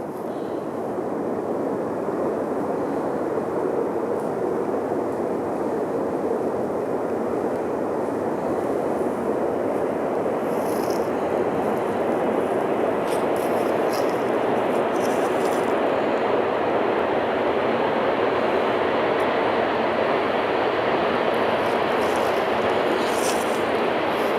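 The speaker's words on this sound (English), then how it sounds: "I can't hear over the train." A loud, continuous roar of a train passing near a forest campsite at night fills the whole stretch, steady and close with a dense rushing rumble and no talking.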